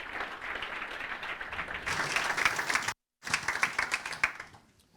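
An audience claps for a mentee, a lively round of applause that swells, cuts out abruptly for a moment, resumes and then tapers off.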